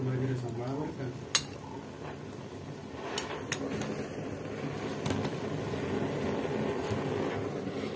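Cashew nuts roast in a pan in Konkan, giving a continuous crackling, scraping rumble with occasional sharp metallic clinks, while muffled voices murmur in the background.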